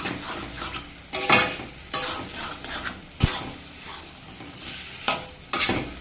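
Taro leaves stirred vigorously in a frying pan over a steady sizzle, with several bursts of scraping and clattering from the utensil at close range; no voices.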